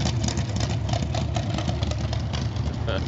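A Honda Z600 rat rod engine idles with a steady, rumbling, slightly uneven throb, fairly close and continuous.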